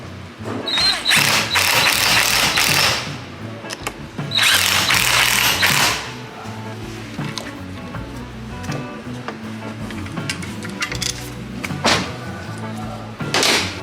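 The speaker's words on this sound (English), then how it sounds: "we place a rag between the 2 rotors to prevent them from spinning, so we can tighten the 2 bolts that hold the gears in place" A ratchet tightens the gear bolts on a rotor blower from a Detroit Diesel 4-53 two-stroke engine. Close clicking bursts and metallic knocks sound in a workshop, with talk over parts of it.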